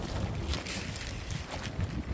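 Steady gusting wind of about 16 mph roars and buffets at close range against a tent, with low thumping flaps and rustling bursts throughout, no voices.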